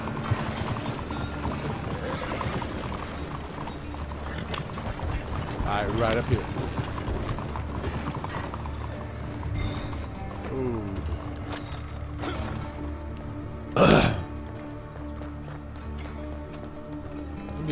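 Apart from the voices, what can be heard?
horses galloping in the video game Red Dead Redemption 2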